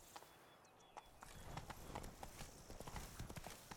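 Horse hooves clip-clopping in the video game The Witcher 3, a steady run of close, crisp hoofbeats picking up in pace over a low ambient bed.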